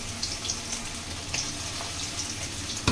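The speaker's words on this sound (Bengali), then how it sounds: "এবার সবগুলো আস্তে আস্তে করে ভেজে নেব" Chicken pieces for chilli chicken fry in hot oil, a loud, dense, continuous sizzle with scattered sharp crackles and pops close up, without talk.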